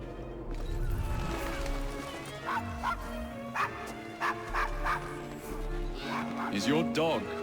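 Dog in the video game Assassin's Creed Syndicate barks and whimpers in short yips over a game soundtrack, with voices talking throughout at moderate level.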